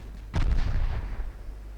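Naval guns firing armor-piercing shells in Ultimate Admiral Dreadnoughts, a single heavy boom with a deep rumbling tail that fades over about a second.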